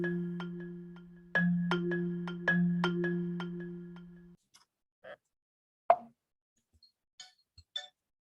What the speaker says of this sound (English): Put my phone on silent.